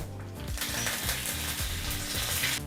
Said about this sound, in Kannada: ಅರ್ಧ ಟೀ ಸ್ಪೂನಷ್ಟು ಹಚ್ಚ ಖಾರದ ಪುಡಿನ ಒಗ್ಗರಣೆಗೆ ಹಾಕ್ತಾ ಇದ್ದೀವಿ